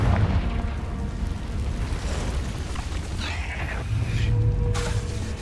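The Confringo explosive spell in the Hogwarts Legacy video game, heavy booming blasts and rumbling bursts filling the scene loudly, with several explosive hits and crackling debris over a few seconds.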